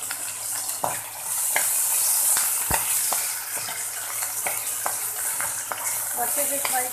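Garlic frying in a pan for a parwal vegetable dish, a steady hiss of sizzling oil with scattered sharp clicks and scrapes of stirring, fairly close and continuous throughout.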